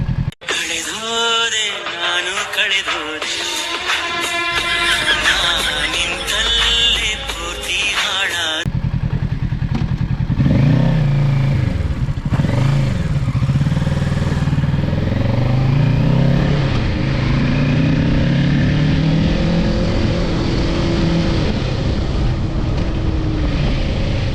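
A Kawasaki Ninja 650 sports tourer motorcycle engine while riding, a loud steady drone with rising and falling revs under heavy wind rush, following a few seconds of music.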